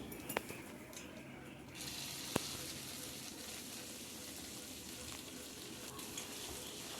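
Crushed garlic, cumin and curry leaves sizzle in hot oil in a pan for tempering tomato coriander chutney, a soft steady crackling hiss with a few sharp clicks of a utensil.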